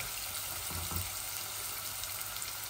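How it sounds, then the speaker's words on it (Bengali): Onions fry in a pan with salt and puffed rice while rohu fish is cooked with ginger and lemon, a steady close sizzle running evenly throughout. "আর আমার পেঁয়াজটা একটু ভাজা ভাজা হোক"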